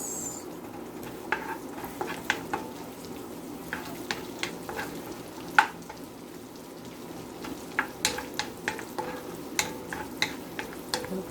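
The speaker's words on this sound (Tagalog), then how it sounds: "I will add ground pork, um, scrambled egg, mixed vegetables of my fried rice." Fried rice with ground pork, scrambled egg and mixed vegetables stir-fried in a pan, a soft constant sizzle broken by scattered sharp clicks and scrapes of a spatula against the pan.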